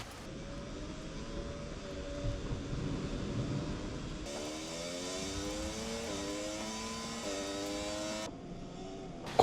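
Motorcycle engines rev in the MotoGP racing video game, a steady whining drone with rising and falling pitch sweeps as the bikes shift gears, moderately loud and with no voices.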